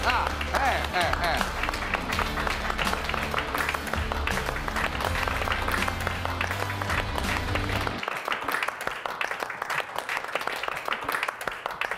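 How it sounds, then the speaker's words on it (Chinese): An audience in a TV studio gives sustained, dense applause that stays loud, then thins noticeably after about eight seconds, with voices mixed in. "大家掌声鼓励他啊！"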